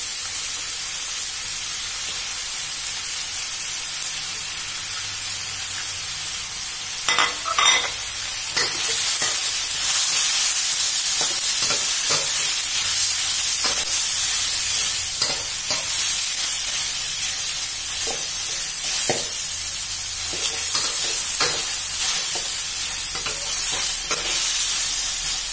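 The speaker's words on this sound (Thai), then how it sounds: "อันนี้เราจะใส่ตัวขิงหอมใหญ่แล้วพริกลงไปเลยนะคะ" Ginger, onion and chili stir-fried in a pan start with a soft hiss. About a third of the way in they swell into a loud, continuous sizzle, with scattered scraping and stirring knocks and no voices.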